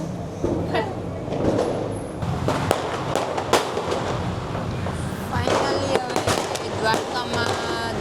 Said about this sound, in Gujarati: કેમ ફૂટે ફટાકડા?